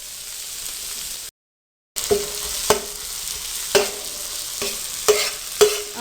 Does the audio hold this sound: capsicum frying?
yes